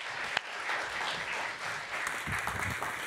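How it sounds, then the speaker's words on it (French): An audience applauds at a French conference on the possibilities of living elsewhere, a moderately quiet, continuous patter of many hands clapping with a sharp knock near the start. "présentés par Frédéric Ferrer, que j'appelle et que je vous demande d'applaudir."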